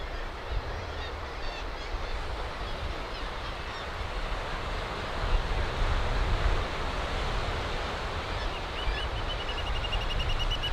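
Constant roar of sea surf washing over rocks, broad and steady with gentle swells, no voices.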